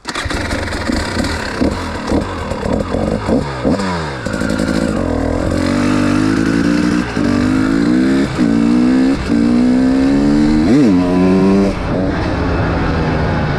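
A KTM EXC 300 two-stroke dirt bike ridden along a backroad, its engine loud and close, revving up and down repeatedly with shifts and a rising drone as it cruises on.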